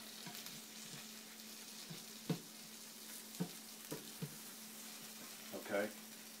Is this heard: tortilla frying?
yes